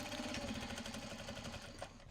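Rapid, even mechanical whirr of a sewing machine running top stitching on a tote bag, a steady close rattle that lasts about two seconds, with no voices.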